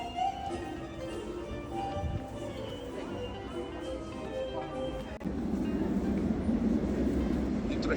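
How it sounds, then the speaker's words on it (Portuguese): A metro train carries riders toward Antwerp Central station, its steady broadband rumble and rattle filling the car. The noise grows louder and rougher partway through, as if the train picks up speed or crosses a rougher stretch of track. "Pegamos o metrô até a estação central de Antuérpia"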